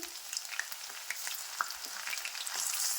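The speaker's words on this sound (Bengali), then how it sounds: "একেবারে পকোড়ার কালার খুব ভালোভাবে ভাজা হচ্ছে" Fish pakoras fry in hot oil over a medium gas flame, giving a steady close sizzle dotted with small pops and crackles.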